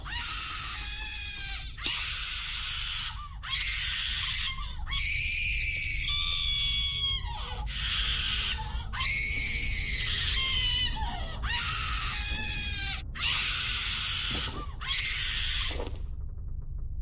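A maid character in RuneScape 3 screams and wails again and again, each shrill cry lasting a second or two with brief gaps between, loud and sustained over a low background hum.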